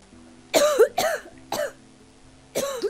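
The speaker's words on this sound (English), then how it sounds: "A bad cough was getting worse." Four harsh coughs in a short burst, three close together and one after a pause, loud and close with no talking.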